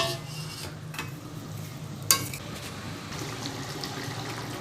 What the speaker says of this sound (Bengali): এইবার আমি দিয়ে দেবো ভেজে রাখা মাছগুলো।